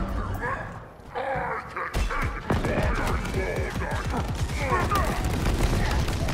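Rapid gunfire from a weapon in Halo Infinite, with dense bursts of sharp shots and booming impacts firing in quick succession, heavy and continuous through most of the clip, with people talking over it.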